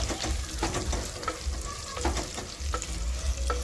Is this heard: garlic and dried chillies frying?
yes